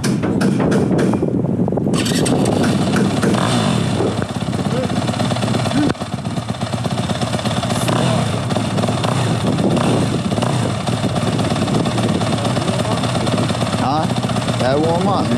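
Motorcycle engine idling steadily while warming up, a continuous low rumble close by with wind noise over the microphone and people talking over it.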